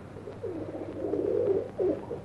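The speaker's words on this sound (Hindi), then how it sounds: "ये कबूतर बड़ा सुस्त नजर आ रहा है" A pigeon coos in a soft, throaty series of rolling calls, rising to a fuller burst near the end, heard close and alone without any voices.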